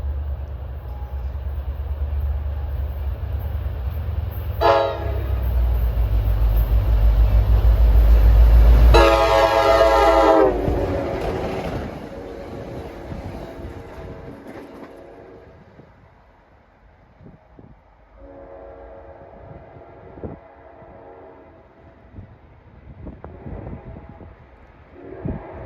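An NJ Transit diesel train, number 63 bound for Port Jervis, rumbles loudly past close by, sounding a short horn blast and then a longer one. The roar fades into distant rolling wheels and further faint horn calls.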